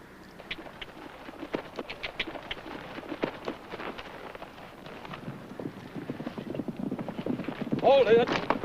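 Horse hooves clip-clop at a walking pace, a steady series of knocks under voices that talk throughout, growing louder toward the end, in a 1957 Western TV show.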